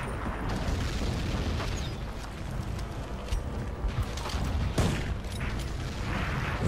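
Dense, nonstop battle din from Medal of Honor Warfighter: overlapping explosions and gunfire blend into a loud, saturated roar with sharper blasts poking out here and there.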